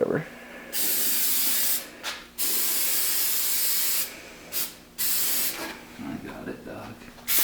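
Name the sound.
spray paint can spraying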